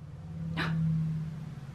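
A dog gives one short, sharp bark, close by, set against a steady low indoor hum.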